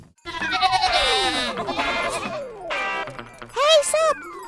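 Sheep bleat in a flock, several overlapping wavering calls in quick succession, loud and close, with a louder pair of bleats near the end.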